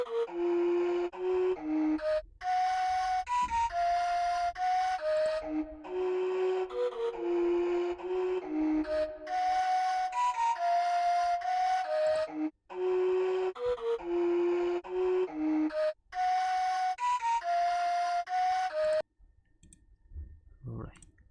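A trap beat built in LMMS around a flute melody, played dry without effects: a steady, bright, sustained flute line stepping between notes over a continuous beat for about nineteen seconds, then dropping to near silence.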